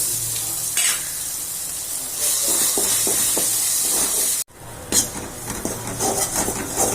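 Mustard seeds, urad dal, asafoetida and ground pirandai paste sizzle in hot sesame oil, a loud continuous frying hiss with stirring scrapes, briefly cut off, then resuming more unevenly.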